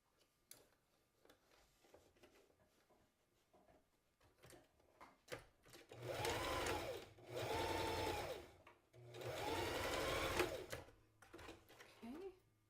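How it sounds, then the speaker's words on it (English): A sewing machine stitches the peak onto a child's newsboy hat in three steady whirring bursts of about a second or two each, close and loud, with softer handling noises and quiet talk before them. "you're going to stitch an inch on each side, let's say"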